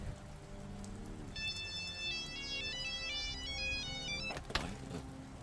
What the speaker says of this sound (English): our personal phone begins to ring